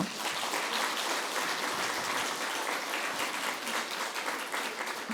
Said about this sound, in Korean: 하나님께 감사의 박수를 올려드리도록 하겠습니다.